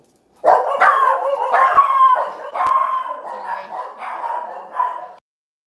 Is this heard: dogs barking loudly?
yes